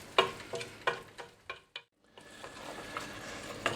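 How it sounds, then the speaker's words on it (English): Chicken and bacon risotto rice being stirred in a pot, a spoon scraping through the thick rice in several distinct strokes with a soft simmer underneath and a brief pause midway, close and fairly quiet. "So we just stir it for a few minutes until all that liquid has disappeared into the rice"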